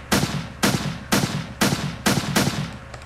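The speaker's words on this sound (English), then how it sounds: "So you can see when I fire, the M4 kicks back" An M4 rifle in a Unity video game fires six loud, evenly paced single shots, each a sharp blast with a brief rumbling tail, with no other sound between them.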